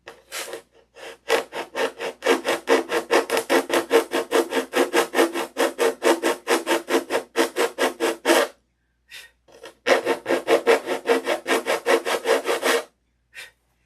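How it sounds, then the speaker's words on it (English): Steady back-and-forth rasping of hand sanding on wood, fast even strokes for several seconds, a short pause, then another run of strokes, close up. "I'm just eyeballing it and sanding it square"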